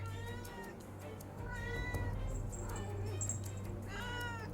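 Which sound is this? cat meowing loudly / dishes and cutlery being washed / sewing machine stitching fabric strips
cat meowing loudly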